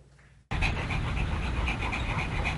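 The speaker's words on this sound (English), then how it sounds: "Tongue out and panting in the heat, a Shih Tzu named Tula" After a brief quiet moment, a Shih Tzu pants rapidly and steadily up close in the heat, quick rhythmic breaths continuing without pause.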